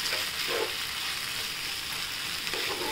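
Poha, flattened rice for a corn upma, goes into a hot pan with spices and sugar and is stirred, making a continuous dry frying hiss with a faint scrape or two and no talk.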